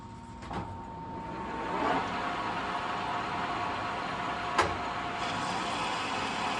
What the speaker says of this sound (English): Nice, quick facing cut, decent surface finish.